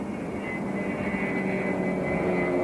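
A Soviet Beriev A-40 Albatros aircraft in flight, heard from inside as a steady, loud engine drone with a constant tonal hum throughout, and no voices.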